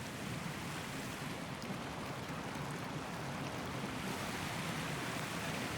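Jackson Falls waterfall in New Hampshire on a summer morning: a steady, broad rush of falling water, continuous and even, heard alone without voices.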